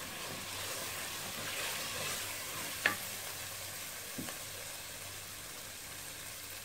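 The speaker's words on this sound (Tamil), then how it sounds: "நல்லா எண்ணெயிலேயே வதங்கட்டும். இது நல்லா வதங்கிருச்சு." A quiet, steady sizzle of ingredients sautéing in oil for mutton biryani, with two soft clinks of a utensil against the pan partway through, near but faint.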